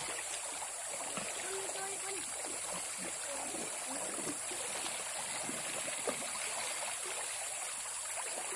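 A mountain stream flows with a continuous broadband rush and frequent splashing, loud and close, as voices talk faintly beneath the water noise.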